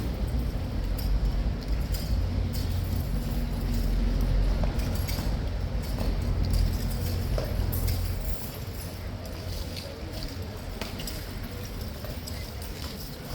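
Several horses' hooves clip-clop steadily on pavement during a morning cavalry parade, a continuous close rhythm with faint jingling tack and a voice speaking briefly.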